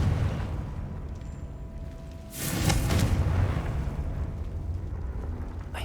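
A Confringo fire spell blasts in the Hogwarts Legacy video game, a single loud burst rising out of steady game ambience and rumbling on for a couple of seconds before settling back.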